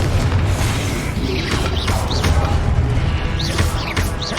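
Confringo blasting spell explosions in the Hogwarts Legacy video game, dense booming bursts and crashes over a constant loud roar, with whooshing sweeps of spell effects throughout.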